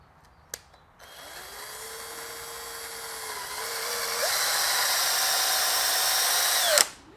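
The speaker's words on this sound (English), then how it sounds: "So what I'm gonna do is put 2 screws right here." A power drill drives two screws to raise a water bin, its motor whining steadily for about six seconds, pitch stepping up partway through before cutting off; a short click comes just before.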